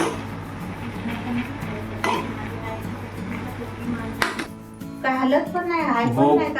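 A quinoa and vegetable mix is stirred in a bowl, with a few sharp utensil clinks against the dish and soft scraping, while people talk over it, louder toward the end.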